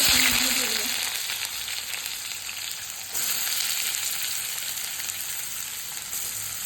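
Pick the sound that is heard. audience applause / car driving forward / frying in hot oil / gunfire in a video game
frying in hot oil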